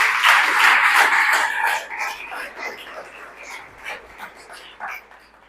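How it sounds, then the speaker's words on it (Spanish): Church congregation applauding together, a broad dense clatter of many hands that is loud at the start, then fades and thins into scattered claps with some voices mixed in. "démosle un aplauso al Rey de Reyes."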